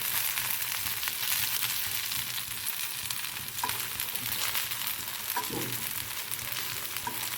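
Beetroot leaf vadi rolls shallow-fry in oil over lowered heat, a steady moderate sizzle with light crackling and a few soft clinks of a utensil against the pan, with no talking.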